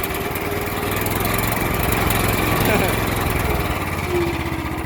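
A small engine drones steadily at close range, loud and even with a slight swell in the middle, while a voice speaks over it.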